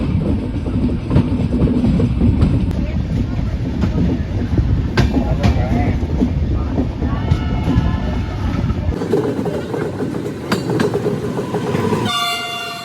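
A Pooja Express passenger train runs at Pathankot railway station at dawn, a steady loud rumble of rolling wagons with clanking and a horn blast near the end; a little talk is heard beneath.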